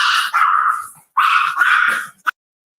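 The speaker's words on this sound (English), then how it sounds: "let's see if the dog doesn't bark" A small indoor dog barks and yips in two close bursts of high, strained vocalizing, each about a second long, followed by a brief final yelp, loud and near with no talking.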